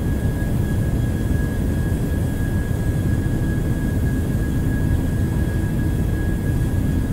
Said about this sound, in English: Set takeoff thrust. Takeoff thrust set, indications normal.